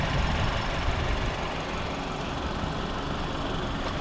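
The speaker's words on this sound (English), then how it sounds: "This is the engine right here." A 2021 BMW X1's 2-liter twin-turbo engine idles with its compartment open, a steady even hum heard close up and alone, with no voices over it.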